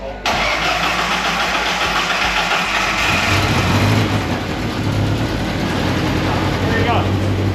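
A car engine cranks, catches and runs loud and close with a rough, steady mid-pitched roar, with people talking over it.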